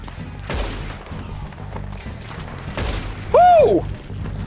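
Gunfire in the Red Dead Redemption video game, with two sharp booming shots a couple of seconds apart amid mechanical game sounds and a brief whistling tone near the end.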